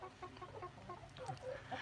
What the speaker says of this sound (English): These barred rock chickens, these black and white ones, are the ones we've had the longest